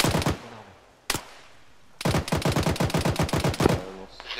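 Machine gun fire in the Arma 3 military shooter, with a short opening burst and a single shot, then a longer rapid rattling burst of closely spaced rounds, loud and close.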